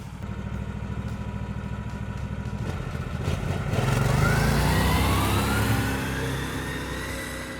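A snowmobile engine runs close by with a steady low drone, then revs up around the midpoint, its pitch climbing and holding loud through the rest of the run.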